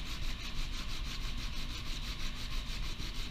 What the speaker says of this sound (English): But I'm going to keep sanding